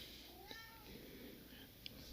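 A cat meows indoors, a few faint, short calls over a low steady background hiss, with no voices.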